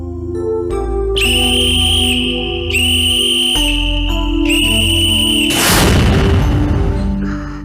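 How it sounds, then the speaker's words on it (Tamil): Three long, shrill whistle blasts ring out one after another over a loud, droning musical background, followed by a booming burst. "கௌரியும் சந்தியாவும் விசில் ஊதுறாங்க"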